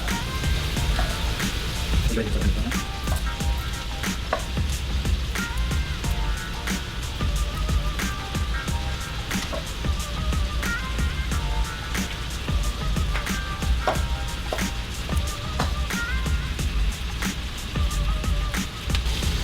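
Food sizzles steadily in a hot pan while pork chops cook, a continuous crackling hiss with small pops and occasional clinks, moderately loud and unbroken throughout.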